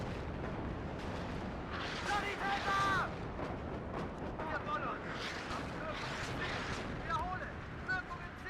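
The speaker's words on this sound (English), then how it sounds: "This is second salvo." Pact howitzer salvo striking buildings in the video game WARNO: repeated distant booms and crackling impacts rolling over a steady rumble, with someone talking over them.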